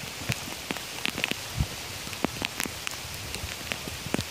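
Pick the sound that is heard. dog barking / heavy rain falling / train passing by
heavy rain falling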